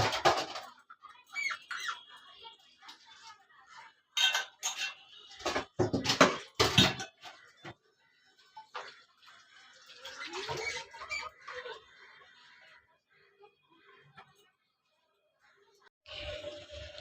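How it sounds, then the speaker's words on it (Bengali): Hilsa fish being washed in water in a home kitchen, with intermittent splashing, sloshing and clattering of a metal pot in bursts, a short quiet gap, then more rinsing. "মাছগুলো ধুয়ে নিই"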